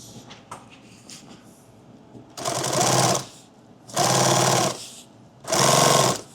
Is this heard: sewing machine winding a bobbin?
yes